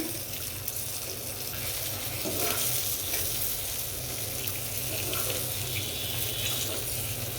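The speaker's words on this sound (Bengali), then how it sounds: "একটু ভালো করে ভেজে নেব" Fish being fried in a pan for hilsa pilaf, giving a steady, moderately loud sizzle that holds evenly throughout with no talking.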